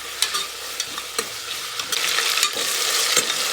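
Onions frying toward golden brown for a vegetable pulao, a bright steady sizzle in the pan with intermittent scraping strokes of a spoon stirring, close and loud with no talk.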